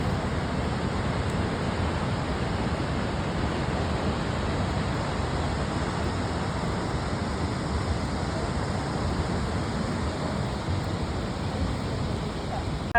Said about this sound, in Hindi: And now you can also enjoy the beauty of Lingmala waterfall.